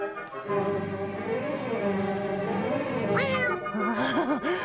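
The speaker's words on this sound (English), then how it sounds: "No, it's a cat." Several cats meow at once, overlapping drawn-out cries with wavering pitch, close by, continuing throughout.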